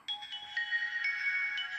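A retro mobile phone from the 2000s, bought at a flea market, plays its startup melody on power-on: a steady electronic tune of sustained tones with a few note changes, moderately loud from a small speaker, with no talking.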